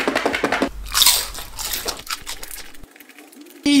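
Spicy Doritos chips crunched close up, with a loud bite and crunchy chewing followed by quieter rustling.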